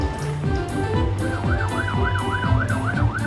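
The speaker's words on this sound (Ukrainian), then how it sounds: "гучна сирена, яку чують всі машинки" A loud, close fire truck siren wails in rapid rising and falling sweeps, with a rumbling engine and repeated high pings beneath it.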